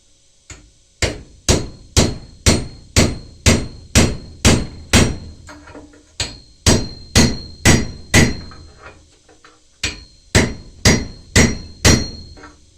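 Repeated hammer blows drive a wooden plug into the socket of an old garden hoe, sharp close strikes in steady runs of about a dozen, with short pauses between groups.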